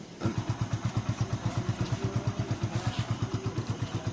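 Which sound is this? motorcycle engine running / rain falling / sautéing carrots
motorcycle engine running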